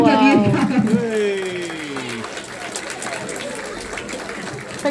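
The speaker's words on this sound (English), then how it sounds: "Give him a cheer" An audience at a sea lion show claps and cheers in a steady wash of applause, with a voice talking over the start before the crowd noise carries on alone.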